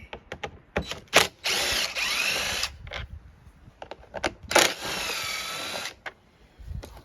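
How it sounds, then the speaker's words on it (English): A power drill fitted with a Torx bit whirs in two sustained bursts while backing out two bolts inside a car dashboard during a glovebox install, with short clicks and handling knocks between runs, close up. "we get to take these 2 bolts out with a torque bit."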